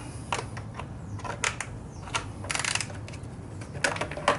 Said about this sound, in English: I'm using a smaller ratchet, and I just put my fingers here, tighten that one